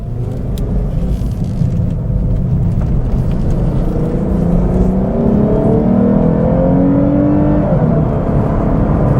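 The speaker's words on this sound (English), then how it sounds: "there is a weird, somewhat transmission whine that I'm hearing" A 2021 Lexus IS 350 F Sport engine drones steadily from inside the cabin, with a rising transmission whine layered over the low rumble as it accelerates.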